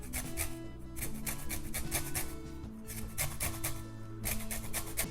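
Lime peel is rasped against a fine zester in quick, rhythmic scraping strokes, close and fairly soft, with no talking.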